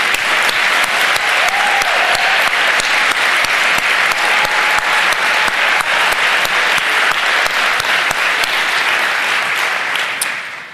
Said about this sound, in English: we can all give them an applause and congratulate them on that journey